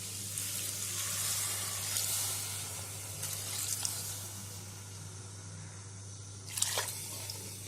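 Bitter gourd sizzles steadily in a hot pan under a low electrical hum, with a couple of brief clinks of a utensil stirring.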